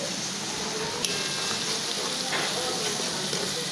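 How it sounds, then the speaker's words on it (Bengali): Ash gourd (chal kumra) stir-fry sizzles steadily in a hot pan as egg goes in, a dense continuous frying hiss with faint stirring scrapes throughout. "ভাজিটা হয়ে গিয়েছে, এখন একটু ডিম দিয়ে দেবো।"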